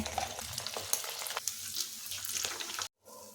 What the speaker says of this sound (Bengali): ওই তেলে আবার বাকিটা ছেড়ে দিচ্ছি